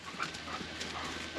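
A puppy scrambling and digging in garden dirt near a raised bed, with steady scuffling, pawing and quick panting close by, and no talk over it.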